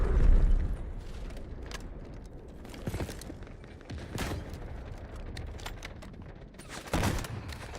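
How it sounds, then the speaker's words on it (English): Scattered booms and blasts in a shooter video game where a rocket launcher is in use, fairly faint, with a heavier hit at the start and another near the end. "Yeah, rocket launcher."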